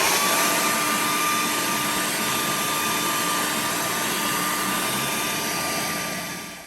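A hair dryer blows steadily and loudly, close up, drying the inside of a Samsung refrigerator after the ice has been removed, a constant whooshing roar with a faint whine that fades slightly toward the end.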